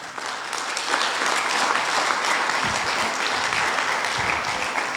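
Dense, steady applause from a church congregation fills the room, loud and continuous for the whole stretch with no talk over it.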